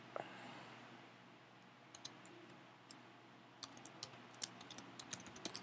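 Keys click on a Mac computer keyboard as C++ code is typed, faint scattered taps that turn into a quicker run of clicks toward the end.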